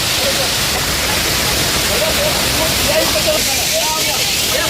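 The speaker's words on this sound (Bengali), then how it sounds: "ঝর্ণা" A loud, constant roar of rushing water from a waterfall on the trek from Gaurikund to Kedarnath fills the scene, with a faint voice underneath.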